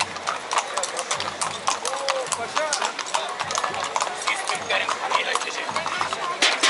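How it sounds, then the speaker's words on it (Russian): A horse walks along a street during a tourism festival parade in Alanya, Turkey, its hooves clip-clopping steadily and close by under busy crowd chatter and people talking. "Самый красивый конь этот из всех."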